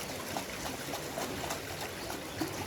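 Water flows steadily in a river during catfish fishing, a constant broadband rushing and trickling close by, with no voices.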